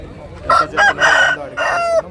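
A rooster crows loudly and close at a rooster market in Gudur, one long crow broken into rising and falling bursts, with farmyard clucking behind it.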